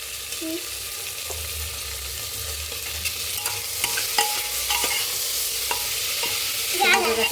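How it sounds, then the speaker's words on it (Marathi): Vegetables with tomato are stir-fried for masala rice, a steady close sizzle broken by repeated scraping strokes of a spatula against the pan and a clatter at the end. "छान असं आपल्याला भाजी परतून घ्यायचं आहे"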